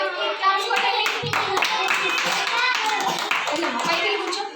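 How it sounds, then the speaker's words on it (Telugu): Schoolchildren in a classroom applaud a classmate, a dense steady patter of many small hands clapping together for several seconds amid children's voices. "రక్తానికి క్లాప్స్ కొట్టండి"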